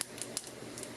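Knife crunching into a crispy pan-fried vegetable gyoza, three or four brief, faint, close crackles in a short, quiet moment with no talking.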